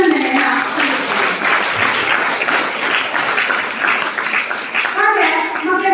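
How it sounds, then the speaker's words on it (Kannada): Schoolchildren clapping loudly together at an SSLC results celebration, a dense sustained wash of applause with young voices calling out within it throughout. "ಎಲ್ಲ ಮಕ್ಕಳು ಜೋರಾದ ಚಪ್ಪಾಳೆಯೊಂದಿಗೆ ಅಭಿನಂದನೆಯನ್ನ ಸಲ್ಲಿಸುತ್ತೇನೆ"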